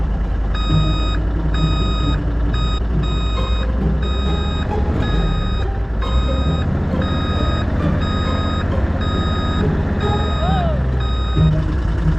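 An Argo all-terrain vehicle backing up at a school, its reversing alarm beeping in a steady repeating pattern over a loud engine drone, with no voices.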